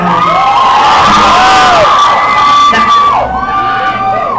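Concert audience screaming and cheering, loud and sustained, a dense crowd roar with high shrieks rising and falling, with no speech on top.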